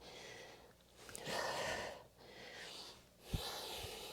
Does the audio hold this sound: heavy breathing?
yes